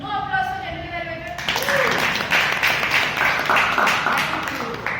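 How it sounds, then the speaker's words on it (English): A voice speaks briefly, then a crowd at a Toastmasters meeting breaks into sustained applause, many hands clapping steadily for several seconds. "No applause for General Elevator."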